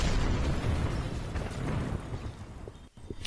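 A rocket blows apart in the video game Kerbal Space Program, a heavy rumbling blast that slowly fades, with a brief dropout and a few small pops near the end.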